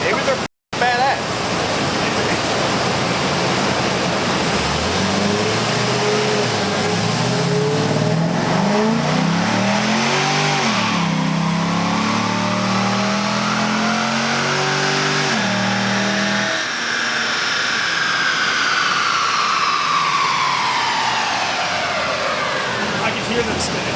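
A Stage 3 Chevy Caprice engine revs hard and rises in pitch through a long pull while its tires spin, loud and close for most of the stretch.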